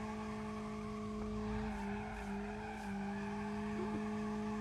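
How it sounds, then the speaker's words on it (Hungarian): Tires squeal steadily as a car drifts in the BeamNG.drive driving game, a sustained skidding whine layered over engine drone, moderately loud with no speech. "Oda nézzetek, hát micsoda drifteket nyomunk itt."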